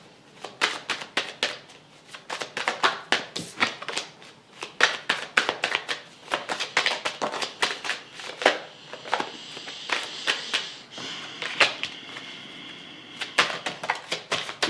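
A deck of cards being shuffled for a card reading, with rapid riffling and soft slapping bursts in quick irregular runs, close up and fairly loud, then quieter rustling and handling toward the end.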